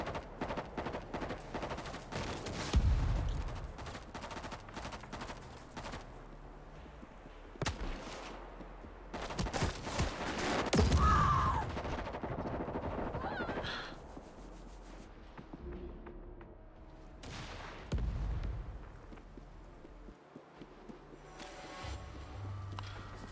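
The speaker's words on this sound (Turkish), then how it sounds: "Ben silahla sıkıyorum adama, bir şey olmuyor." Gunfire in the zombie shooter World War Z, with scattered bursts and loud shots spread across the stretch, the strongest around the middle, over steady game noise.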